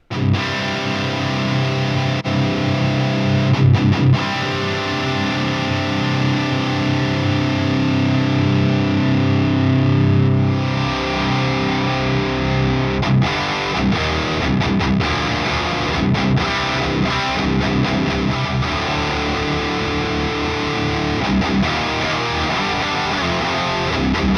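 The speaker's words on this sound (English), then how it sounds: "I wanted like a thick mid-range but quite tight kind of high gain sound" Thick, saturated high-gain electric guitar tone from a Neural DSP Granophyre amp, tight with thick mids, loud and sustained, with a brief dip in the middle before heavy distorted chugging resumes.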